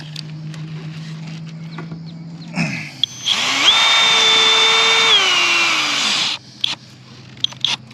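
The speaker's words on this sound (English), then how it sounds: "I'm gonna go ahead and anchor them black screws in" A power drill drives black screws into a metal roof in one close, loud burst of a few seconds, the motor whining steadily before stopping, with faint clicks and handling noise before and after.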